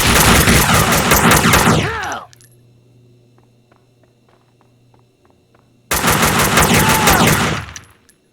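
Bursts of rapid automatic gunfire in the video game Max Payne 2 form two loud sustained volleys, with a few seconds of near silence and faint clicks between them.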